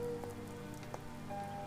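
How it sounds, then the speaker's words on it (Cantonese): Steady rain falls outdoors during a night scene in a Hong Kong TV thriller. The soft, continuous patter is faint and spread evenly, with no voices. "做咩落住雨都走出嚟坐啊？"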